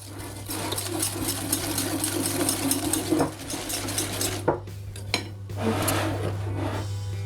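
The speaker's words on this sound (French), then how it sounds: "Je mélange à l'aide d'un fouet." Egg whites and caster sugar whisked by hand in a bowl, a rapid, steady scraping and clinking of wire against the bowl with a few louder knocks near the end, close and alone over a low hum.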